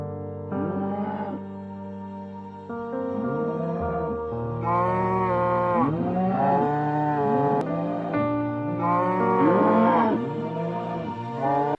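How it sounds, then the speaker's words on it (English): Cows in the Minecraft Hypixel Skyblock video game moo repeatedly, several drawn-out game-sound moos overlapping in a steady sequence, fairly loud and alone with no talking. "So, Spoo, I'm gonna be hitting cows for a while"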